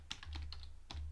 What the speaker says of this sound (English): we'll just start by typing in the term chicken